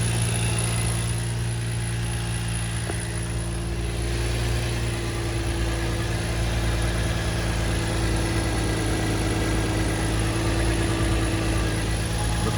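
A car engine idles steadily after an oil cooler kit install, a constant low droning hum with faint vibration, close by and unbroken for the whole stretch, with no voices.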